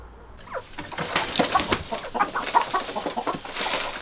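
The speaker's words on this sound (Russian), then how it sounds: "Вот они, красавчики, заработали курочки." Several hens clucking and murmuring close by in a village in southern Russia, overlapping in irregular bursts of throaty calls.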